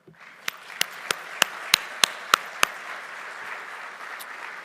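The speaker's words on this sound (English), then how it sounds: "Please give a tremendous round of applause to each and every sponsor who partnered during this BMX event." At a BMX event program, an audience applauds its sponsors with a soft, steady patter of clapping, punctuated by a short series of sharp, evenly spaced loud claps near the microphone before the applause tapers off.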